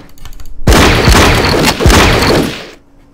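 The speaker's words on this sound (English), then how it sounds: "I'm going to move my Soviet rifles in. Whoa! I did not expect to see a martyr there. We'll go ahead and open fire" Burst of rifle gunfire in the WWII strategy game Battle Academy 2, Soviet rifles opening fire near Kursk: loud booming volley of overlapping shots with heavy low thumps, sustained for about two seconds, no talking.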